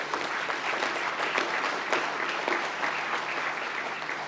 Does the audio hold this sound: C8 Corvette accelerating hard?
no